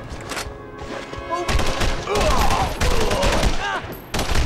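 Gunfire in a Punisher video game: dense, loud bursts of rapid shots and fusillades crowding the clip in waves, with voices heard around the shooting.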